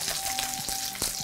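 Frozen chicken nuggets fry in oil in a pan over medium heat, giving off a steady, fairly loud, crackling sizzle with no one speaking.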